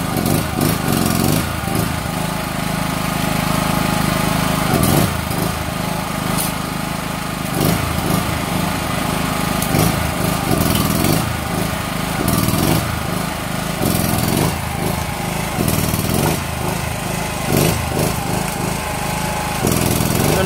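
A second-hand generator engine runs steadily during a welding test, giving a loud, continuous buzzing drone with brief surges and dips, with no talking over it.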